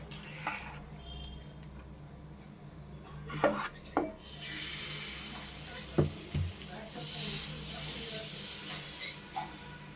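Dough laid on a ghee-greased tawa sizzles faintly and steadily, with a few sharp scrapes and knocks of utensil against the griddle, while someone talks at intervals over the cooking.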